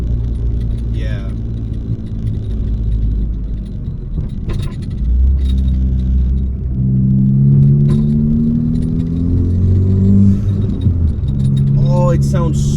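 A Ford Focus ST fitted with a Sidewinder turbo kit, its engine rumbling low and rising in pitch while driving, with keys jingling inside the cabin and someone talking over it.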